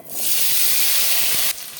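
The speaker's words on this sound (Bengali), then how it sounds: "আলুটাকে লাল করে ভেজে তুলে নিতে হবে" Loud, sharp hiss of diced potatoes hitting hot mustard oil with a little turmeric in a wok, a steady sizzle that drops suddenly to a softer crackle near the end.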